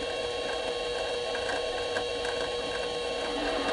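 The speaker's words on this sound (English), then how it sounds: "Let's get the lathe running kind of slow." A metal lathe turning slowly in a workshop, fitted for die-holder work at the tailstock, gives a steady, continuous mechanical hum with a dense layer of motor whine and faint rattles, close by and uninterrupted, with no voices.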